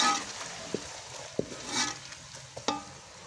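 A masala of tomato and garlic-ginger paste is stirred and fried in a pan, giving a soft sizzle broken by several sharp spoon clinks against the pot.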